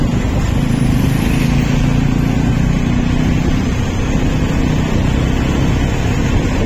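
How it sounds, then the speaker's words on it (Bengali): Motorbikes labour up a winding mountain road, a loud, constant close engine drone that fills the whole stretch without letup. "এই উঠছে গাড়ি আমাদের,"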